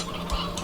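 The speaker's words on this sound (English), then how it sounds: "Oh, the rooster." A rooster in the video game Slime Rancher 2 gives a brief, fairly faint call, heard on its own with no talking.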